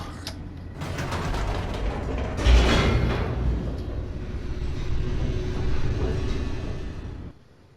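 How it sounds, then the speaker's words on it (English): An elevator descends in the video game The Stanley Parable with a steady mechanical rumble and creaking gears, swelling briefly midway and then cutting off near the end, with no voices. "The elevator raced downward, plummeting towards an unknown fate."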